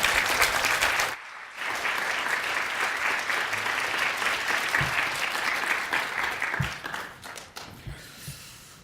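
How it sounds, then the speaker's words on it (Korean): Standing congregation at a church service of a Baptist graduate seminary gives warm applause, a brief opening burst, a short gap, then sustained dense clapping that fades near the end with a few isolated thumps. "이 시간 나오실 때 여러분 기립해서 뜨거운 박수로 맞아주시기 바랍니다."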